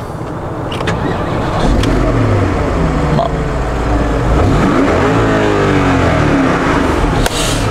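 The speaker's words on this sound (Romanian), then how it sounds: "Hai să pornim evacuarea direct." A Porsche Turbo S exhaust revs hard several times, the engine note sweeping up and down loudly and close by, with sharp pops between blips.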